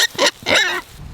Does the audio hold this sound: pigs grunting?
yes